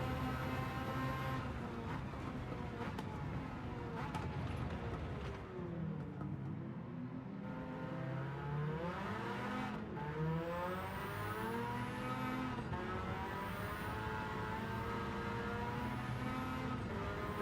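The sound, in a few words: race car engine revving in a racing video game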